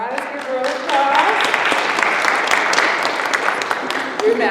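Applause greets a singer at a virtual spiritual festival workshop: dense, steady clapping that holds for several seconds, with a voice briefly heard over it.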